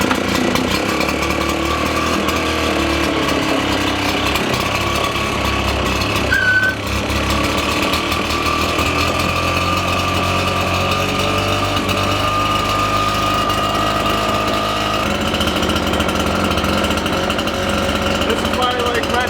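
Red Max lawn equipment engines running loudly and continuously, a dense, buzzing two-stroke roar that stays close throughout with no pause.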